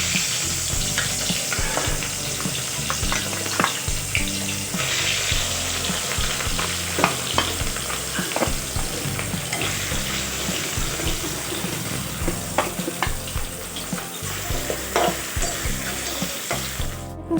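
Rohu fish pieces fry in hot mustard oil, giving a loud, steady crackling sizzle with scattered pops and scraping stirs, close and continuous, with no talking.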